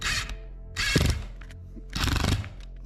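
A power driver sets screws deeper into plasterboard in a cellar being turned into a home studio, giving two or three short, close whirring bursts with quiet gaps between them.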